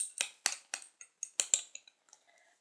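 A utensil stirs and clinks against a bowl holding a homemade orange-tinted mixture made for a Mother's Day DIY, with about eight sharp scraping taps in quick rhythm that fade into faint clicks.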